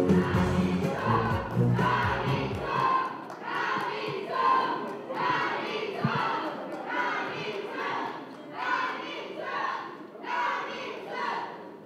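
A crowd at a Democratic Party joint candidate rally in Daegu, heard at a large hall, answering with loud rhythmic waves of clapping and cheering that swell and fall roughly every second.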